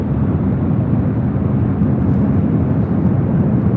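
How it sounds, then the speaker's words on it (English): Steady, loud low rumble of a Korean Air Cargo Boeing 747 touching down on runway 25 left at LAX, a continuous broad roar with no voices. "we do have a Korean Air Cargo 747 and touching down at 25 left"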